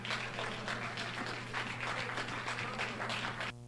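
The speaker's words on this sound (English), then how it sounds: "Do I get an applause?" Audience applause for a guest speaker at an event about Sierra Leone: a short, steady burst of clapping from a crowd in a hall with a constant hum underneath, cutting off abruptly near the end.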